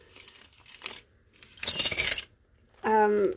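A bunch of keys, including an old skeleton key, gives a few light metallic clinks, then a louder bright jingle that rings out near the end.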